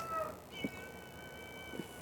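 A cat meows outside a window asking for food, two short, fairly faint cries about a second apart over a steady background hum with whistling tones.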